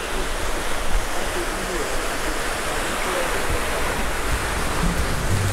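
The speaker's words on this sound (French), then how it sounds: "la fameuse cascade de l'Ourika" Steady, dense rush of falling water at the Ourika waterfall in Morocco's Atlas Mountains in winter, loud and close, with a constant broadband roar and no pauses.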